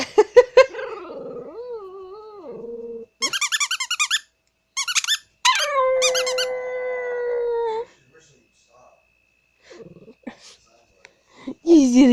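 A dog howls and yips in wavering tones at a squeaky toy, the toy's sharp repeated squeaks breaking in between, with a voice talking near the end.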